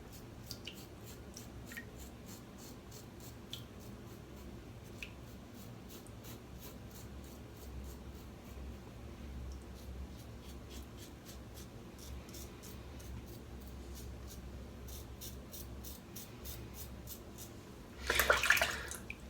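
A Mergress adjustable safety razor set to 2 scrapes across the grain in short, faint, close strokes repeating steadily, with a brief rush of running water near the end.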